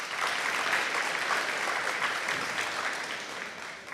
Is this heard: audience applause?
yes